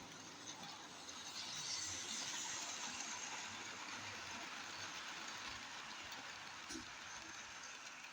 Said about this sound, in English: On the move again now, so here comes Flying Scotsman.